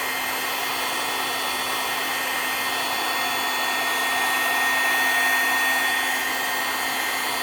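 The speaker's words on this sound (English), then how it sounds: "this heat gun here is pumping out some major heat" A heat gun blows hot air onto an ostrich egg, giving a steady, loud, unbroken whoosh that keeps the same level for the whole stretch, with no talking.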